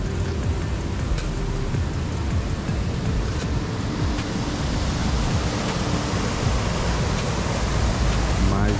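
Steady, loud rushing water from a river that rises in the mountains near Cachoeiras de Macacu, flowing over rocks with constant broadband roar and no pauses, heard close up.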